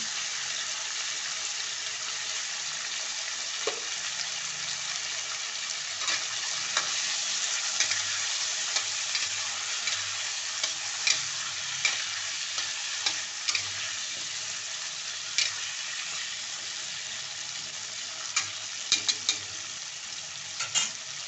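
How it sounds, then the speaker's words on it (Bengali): Onion, garlic and potato with turmeric sautéing in a pan give a steady, continuous sizzle throughout, with occasional light scrapes and clicks from stirring and no talk. "মশলাকে ভালো করে সাঁতলাতে হবে"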